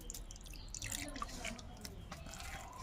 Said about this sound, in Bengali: সামান্য পরিমাণ আমি একটু জল দিয়ে দেবো